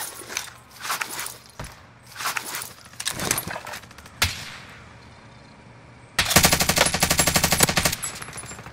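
Gunfire in the shooter game Call of Duty: Modern Warfare: scattered single shots and short bursts, then a loud sustained automatic burst near the end, close and prominent with no voices.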